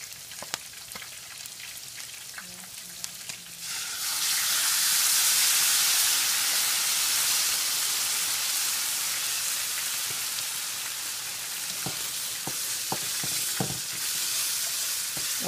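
Tomato sauce, seasoned with salt and pepper for fish, sizzles and fries in a pan, starting quietly and then swelling into a loud, steady hiss broken by occasional clicks and stirring knocks.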